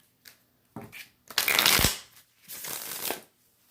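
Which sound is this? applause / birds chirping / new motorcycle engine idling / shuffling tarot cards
shuffling tarot cards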